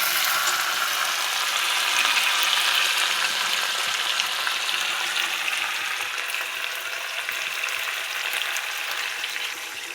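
Spices cooked in oil hiss and sizzle steadily after water from rinsing the marinade plate is poured in, a dense, continuous crackling fry heard up close with no talking.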